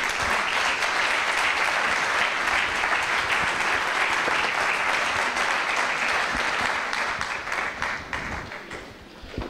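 A seated audience applauds at the close of a panel session on dual vocational training, sustained dense clapping from many hands that stays strong for several seconds before thinning out and fading near the end.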